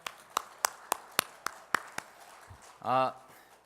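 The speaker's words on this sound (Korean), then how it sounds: "우리 다시 한번 하나님께 영광의 박수 올려드릴까요?" At a Friday evening church service, the congregation claps in steady unison, eight crisp, evenly spaced beats, then falls quiet as a single voice briefly calls out.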